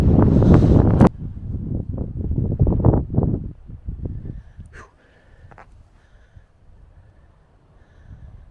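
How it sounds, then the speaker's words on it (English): Strong wind on a coastal hilltop in Wales buffets the microphone in a loud, low roar that gusts, eases off, and leaves a quieter rushing backdrop with faint tones. "the wind's going to be a bit of a problem up here"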